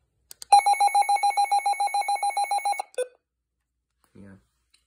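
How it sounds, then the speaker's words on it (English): Weather radio alert siren sounding as a rapid warbling electronic tone pulsing evenly for over two seconds, close and loud, ending with a short beep and later a brief low voice. "This is the siren."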